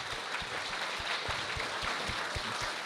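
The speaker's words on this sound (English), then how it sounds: "give yourselves a round of applause" A crowd at a beetleweight combat robot tournament applauds steadily, dense clapping with a few louder individual claps standing out, continuous throughout.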